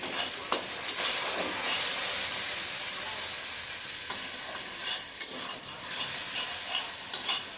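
Masala sizzles and fries steadily in a pan over raised heat, with salt and turmeric stirred in, giving a continuous hiss broken by a few sharp scraping stirs close by.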